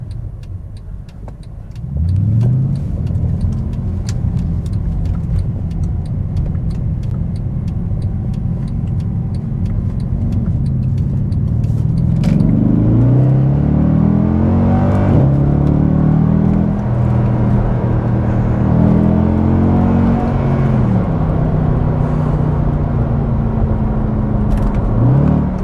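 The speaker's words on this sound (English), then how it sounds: "put it in Sport Plus, back from manual, and just have one more fun drive down here" Mercedes W204 C63 AMG with its 6.2-litre engine pulling hard in Sport Plus, a loud deep engine note rising through the gears with repeated shift dips, heard from inside the car without talk.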